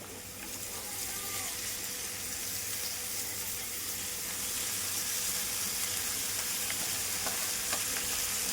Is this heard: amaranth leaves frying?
yes